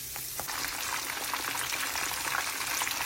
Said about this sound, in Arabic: وبس الزيت يسخن ابتدي بقى احمر البطاطس